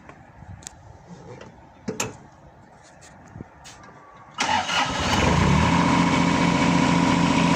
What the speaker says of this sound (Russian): Давайте запустим двигатель,